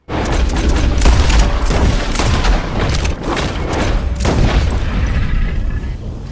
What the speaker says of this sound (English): this gator just took a face full of express ammo from both barrels and she's fine